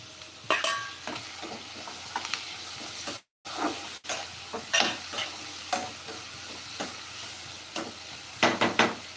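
Tomatoes going into a hot frying pan for an ivy gourd stir-fry, steady close sizzle with frequent sharp stirring scrapes and clatters, one brief dropout in the middle.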